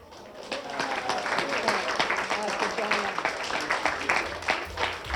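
An audience applauds an honorable-mention winner at a photography competition awards event, with dense, steady clapping from a crowd filling the room at moderate loudness throughout.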